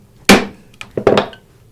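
A mallet strikes a chisel chopping into wood to hand-cut a pocket hole, one sharp loud whack followed by a couple of lighter taps and another solid blow, close and crisp.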